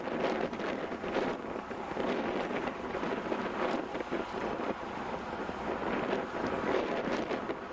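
Strong wind buffets the microphone with a continuous, loud rumbling roar that swells and dips without letting up.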